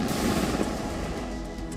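A single loud boom from a 155 mm ATAGS towed artillery gun firing a ceremonial salute at the Red Fort, heavy low rumble decaying over about two seconds.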